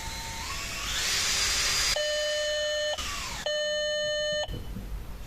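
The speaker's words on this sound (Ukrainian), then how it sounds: "кручу його шурупокрутом" High whine of a cordless screwdriver spinning a used original tachograph speed sensor on a Volkswagen T4, with sharp tonal beeps cutting in and out over the motor noise.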